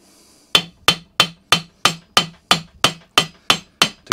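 Metal parts of a Honda Pro gearbox on a Kaaz Lawnflight mower are tapped through a bearing with a hammer, eleven sharp ringing strikes falling at a steady, even pace, loud and close.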